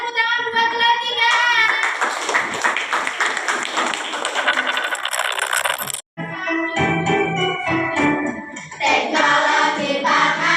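A third-grade class claps hands in rhythm while children's voices chant or sing loudly over it, breaking off briefly midway before starting again.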